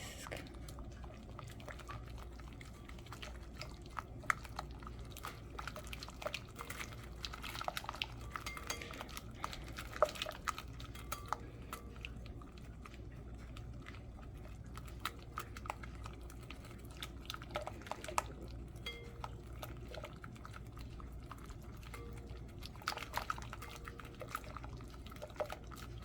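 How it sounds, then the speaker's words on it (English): Hot chocolate mixture for cupcakes is whisked in a bowl, giving quiet, rapid ticking and clinking of wire against the bowl with liquid sloshing. The sound is steady and close but faint, with scattered louder taps and no talk. "Whisk until smooth."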